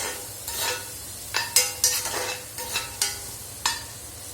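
Cooked-down tomatoes are mashed with a spoon in a sizzling pan, with a soft steady frying hiss and a series of sharp spoon scrapes and taps against the pan in an irregular rhythm, close up and with no talking.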